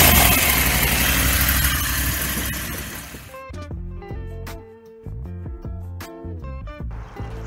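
A Husqvarna 501 FE enduro motorcycle engine idles with a steady rumble that fades after a few seconds, followed by quieter intermittent clicks and tonal thumps.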